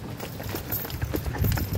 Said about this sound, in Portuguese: Cavalo top aí, ó.